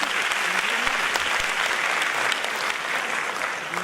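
An audience of students claps at a success celebration event, a dense, steady burst of applause that fills the room and thins slightly near the end.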